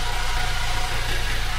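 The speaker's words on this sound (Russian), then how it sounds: "Вот так работает данный двигатель." The engine of a Toyota Hiace idles in a steady, even low rumble with a slight vibration, heard up close and alone.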